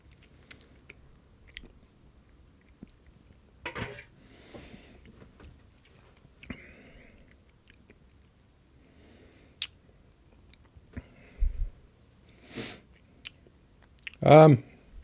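Someone chews a spoonful of spicy pepper food up close, with quiet intermittent wet chewing, soft clicks and a louder crunchy burst near the end, against a near-silent background.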